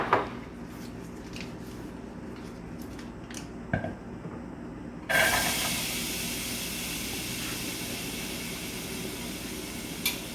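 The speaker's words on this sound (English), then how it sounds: "we are going to saute our onion and butter" Onion sautéing in butter in a pan: a few clinks and taps, then a sudden loud sizzle that keeps hissing steadily and close, with no one speaking.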